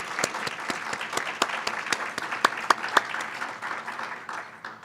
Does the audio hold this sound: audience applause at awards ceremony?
yes